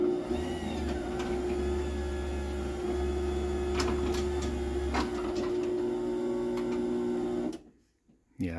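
A Chamberlain HD900D Whisper Drive garage door opener on a mini door runs by remote, closing with a steady motor hum and drive whine and a few faint clicks, then winds down to a soft stop.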